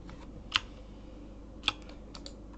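Typing on a computer keyboard, a few sparse key clicks with two sharper strikes and brief pauses between them, close and fairly quiet over faint background hiss.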